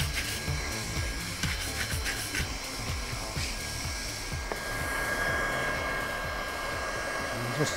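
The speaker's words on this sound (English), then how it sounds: "just turn the air gun down." A hot air gun blows steadily while a wine press membrane is patched, a continuous close, breathy roar with faint scraping and handling noises mixed in and no talk.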